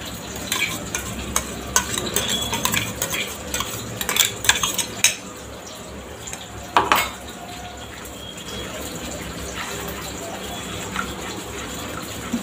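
A spoon stirs blended tomato and chili paste in a pot, giving soft scraping and clinking strokes at an uneven rhythm, close up, with a brief louder clatter midway.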